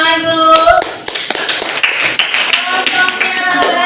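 A classroom of students claps during group scoring, giving a loose burst of hand claps and taps mixed with voices, opening with a sung or drawn-out vocal tone before the clapping takes over at close range.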